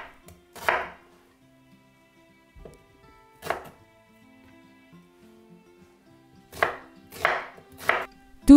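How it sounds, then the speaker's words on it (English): A knife chops an onion into chunks on a board, giving scattered single and clustered thuds: one near the start, a couple mid-clip, then a quicker run of three or four firm cuts at the end. "Cut the onion into chunks."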